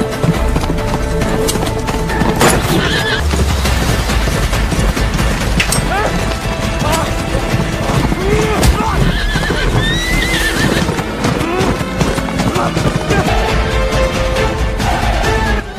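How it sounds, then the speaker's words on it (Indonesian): Horses gallop and neigh during a horse race in a film, with continuous pounding hooves, repeated loud whinnies and crashing impacts in a dense, loud action mix. "Govind duel one by one bersama si Raj dari atas kuda"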